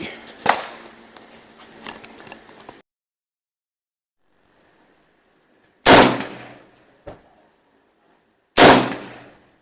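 Loud, close gunshots while zeroing firearms: a sharp report near the start, then after a silent gap two more heavy blasts spaced a few seconds apart, each with a ringing decay, plus a smaller knock between them.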